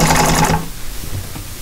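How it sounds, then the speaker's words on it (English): Upholstery sewing machine stitching cording around a boxed T cushion, a loud, close rapid mechanical chatter for about half a second, then stopping into quieter room noise. "I'm going to go ahead and again sew the cording the rest of the way around"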